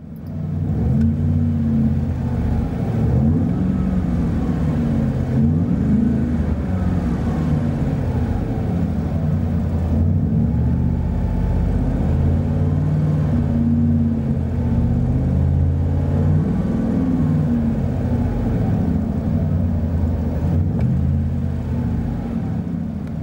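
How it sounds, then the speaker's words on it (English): Steady, moderate in-cabin exhaust drone from a car fitted with a FlowPro True dual exhaust, a low rumble that swells and eases gently with throttle throughout, with no voices. "Interior tone level is mild to moderate with this FlowPro True dual exhaust."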